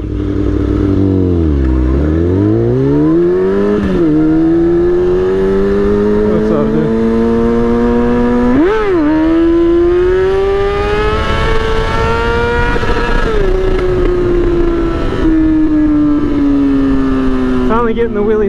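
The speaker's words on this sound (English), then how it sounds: "Getting the wheelies down to just popping them up now, and still working on the throttle hand to get it up to balance point" Kawasaki 636 motorcycle engine revving while popping wheelies, loud and close, the pitch dipping then climbing and holding as the throttle rises and falls, with brief blips over a constant rushing drone.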